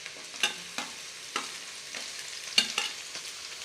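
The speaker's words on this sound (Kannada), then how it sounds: "ಇದಕ್ಕಿವಾಗ ನಾವು ಕ್ಯಾಪ್ಸಿಕಮ್ ಹಾಕ್ತಾ ಇದ್ದೀವಿ." Capsicum and onions stir-frying in a pan for egg fried rice, with soft sizzling and several sharp scraping clacks of a spatula spaced irregularly, heard up close with no talk.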